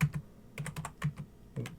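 Quick, light keystrokes on a computer keyboard while a firewall configuration command is entered, a short close burst of soft clicks with no voice.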